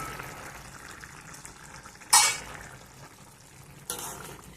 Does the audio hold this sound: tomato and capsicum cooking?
yes